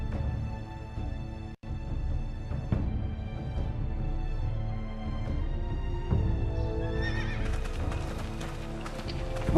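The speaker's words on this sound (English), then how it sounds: "You can have my horse" Horse hooves clip-clop with a whinnying neigh in the Telltale Game of Thrones video game, a steady, fairly loud layered sound that runs without a break under a dense game score.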